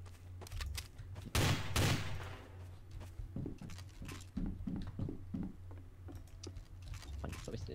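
In the video game Garry's Mod TTT, a machine gun fires a string of quick, evenly spaced shots, moderately close, with a louder burst early on and voices talking between shots.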